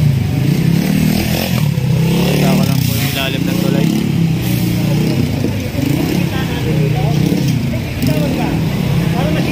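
A motorcycle engine runs up close and loud in street traffic during a roadside clearing operation, with rough idling and revving. Clattering and scraping noises come through, and people talk over it.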